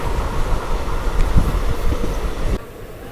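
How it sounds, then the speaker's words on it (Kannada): The Gol Gumbaz Express, running Mysuru to Pandharpur, rolls past on the railway line with a close, heavy rumble and rhythmic wheel clatter that cuts off abruptly near the end. "Gol Gumbaz Express crossing Mysuru to Pandharpur."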